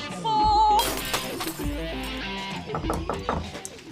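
Glass shatters in a loud crash, a second impact follows, and scattered tinkling shards keep falling and clinking for a couple of seconds.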